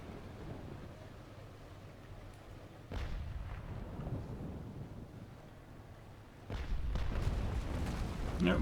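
Deep booming broadsides from sailing warships in a Naval Action naval battle, two heavy low rumbling volleys, the second louder and closer, over a constant windy sea roar.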